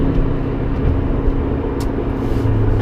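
A Porsche 928 S4 V8 engine hums smoothly as the car accelerates, heard from inside the cabin as a steady low drone with slight rises, with no talking over it.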